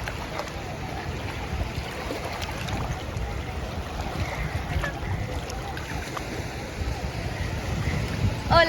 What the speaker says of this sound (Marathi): एकदम हलक्या हलक्या लाटा आहेत.